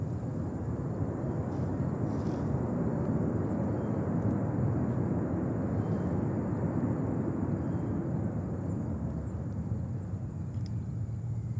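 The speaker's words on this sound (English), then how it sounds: "That's Delta Airlines from Frankfurt." A Delta Airlines jet arriving from Frankfurt at JFK airport in New York rumbles steadily from a distance, a broad, even engine roar with no clear rise or fall and no one speaking.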